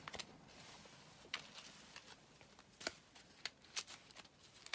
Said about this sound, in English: Now this deck is so little that it is also difficult to shuffle because it's small.